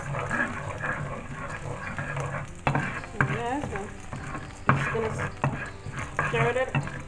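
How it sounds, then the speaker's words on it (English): A spoon scrapes and stirs lentil stew with cumin in a pot, producing repeated close clinks and scraping strokes over a soft background sizzle. "we're gonna go ahead and stir that around"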